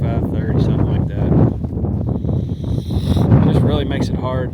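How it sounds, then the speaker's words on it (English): Strong, gusty wind on a rocky stretch of the Appalachian Trail roars and buffets the microphone in continuous surges, with sustained gusts of roughly 25 to 40 mph. "winds were howling"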